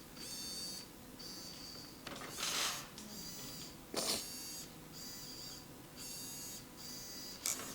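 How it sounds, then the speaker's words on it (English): An RC crossrc EMO JT4 off-road truck's steering servo whirs in a string of about eight short, high-pitched whining bursts, each a second or less, repeating steadily with brief pauses, close up and fairly quiet. "Here is the steering. The steering servo is turning it."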